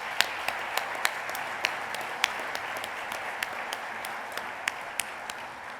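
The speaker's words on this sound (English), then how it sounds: "If you would, give them all a round of applause." Audience at a family and private business awards event applauds the nominees, a steady, moderately quiet wash of clapping with a few sharper individual claps standing out, sustained throughout.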